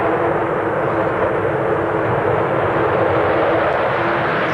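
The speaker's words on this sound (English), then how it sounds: "the Avro Vulcan, the world's biggest flying delta" Avro Vulcan delta-wing jet bomber in flight, a loud, steady, broadband engine roar with a sustained tone throughout and no talk.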